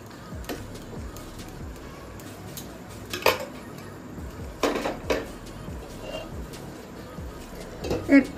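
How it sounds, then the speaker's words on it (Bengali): Pointed gourds tipped into a pan for til potol, then a lid set over it, heard as scattered clinks and knocks of metal cookware, with a couple of sharper clatters near the end, against a low kitchen background. "এবার আমি পটলগুলো অ্যাড করে দিচ্ছি, দিয়ে একটু ঢাকা দিয়ে দেব"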